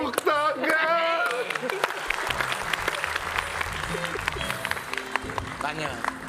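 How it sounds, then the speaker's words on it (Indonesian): Audience members at a variety show applaud, a spoken voice at the start giving way to a broad, sustained wash of clapping that continues to the end. "Tepuk tangan."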